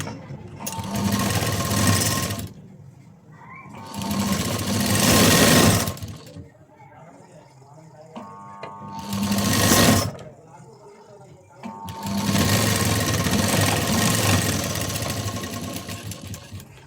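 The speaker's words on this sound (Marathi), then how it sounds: "तर इथे आपण शिलाई मारून घेऊया." Sewing machine stitching a blouse seam, running in four loud bursts of steady rapid whirring separated by short pauses, close up.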